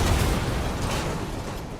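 A cannon blast in Resident Evil Village: a heavy, booming roar with thick low rumble that starts strong and fades slowly into a long reverberant tail, with no voices.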